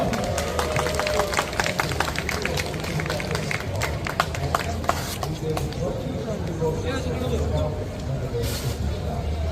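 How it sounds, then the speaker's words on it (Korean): Applause from a crowd for two high school 60 kg boxers at a local boxing tournament, a steady dense clapping that fills the room, with crowd murmur and an announcer's voice over it. "두 선수에게 박수 한 번 더 부탁드리겠습니다"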